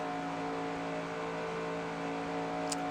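A single race car engine in a racing video game, heard from onboard, holds a steady sustained tone at high speed, fairly even in loudness throughout with a brief faint click near the end.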